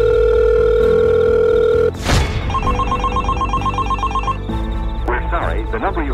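A phone call rings in Roblox Brookhaven with a steady repeating electronic telephone tone, loud and close, then gives way to dial and chime tones over background game music.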